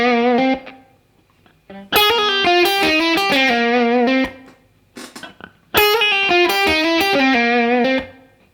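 An electric guitar plays a jazz blues lick at full speed, played twice as fast overdriven note runs with a short muted pause between, each phrase stopping cleanly, close and with no talk.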